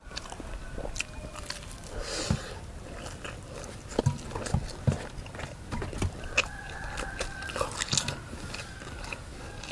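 Someone eats grilled catfish with papaya salad noisily, with close, wet chewing and biting smacks recurring irregularly, plus soft crunches and faint background noise throughout.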